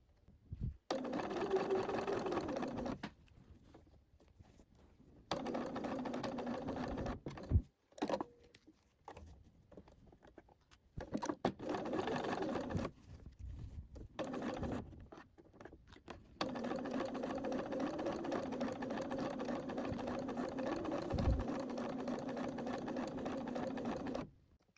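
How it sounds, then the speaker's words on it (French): A sewing machine stitches along the folded hem of a fabric top in several bursts of steady motor whir, close and fairly loud, separated by short quiet pauses and faint handling sounds. "Et on va piquer là où il y a le repli."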